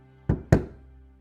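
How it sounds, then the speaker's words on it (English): Two soft, dull knocks on a wooden door, close and unhurried, the second slightly heavier, each fading quickly into a quiet background. "An hour later, there was a much softer knock at the door."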